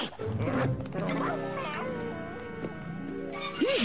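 A cartoon puppy barks and whimpers in an animated show, a run of high yips and whines mixed with a cartoon voice talking over them.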